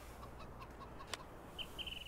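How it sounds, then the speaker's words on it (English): Chickens clucking in Farming Simulator 19, quiet scattered clucks and short calls from farm fowl over soft game ambience, with one sharp click partway through and a few higher chirps near the end. "we got chickens everywhere"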